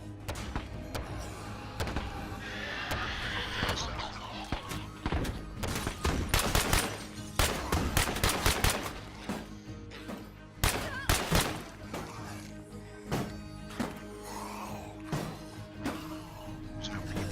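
Gunfire in the zombie survival video game State of Decay 2, with sharp bursts of rapid shots clustered in the middle and scattered single cracks later, ringing out over a low hum.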